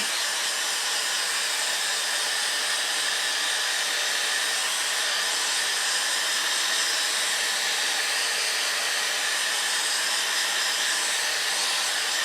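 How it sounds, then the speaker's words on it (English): A heat gun blows steadily while warming a leather and Kydex hybrid knife sheath to melt wax into the leather, a constant loud hissing whoosh with no break for the whole stretch. "Then with my heat gun, just warm it up so it melts the wax in."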